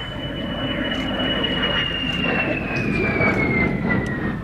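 A de Havilland aircraft flies at an air festival, its steady engine drone holding loud and continuous throughout, with a whining tone that slowly falls in pitch as it passes.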